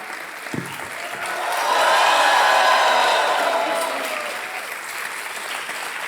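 Studio audience applause on the quiz show Kaun Banega Crorepati, a dense wash of clapping that swells to a loud peak midway with a few whoops, then eases off while continuing steadily.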